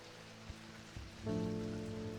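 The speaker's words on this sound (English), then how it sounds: "I love the sound of rain." Rain falls in a video game as a steady soft patter, joined by a brief low tone and a sustained musical hum partway through, quiet and with no speech.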